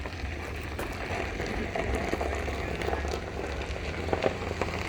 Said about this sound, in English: Well, it's starting to rain over there.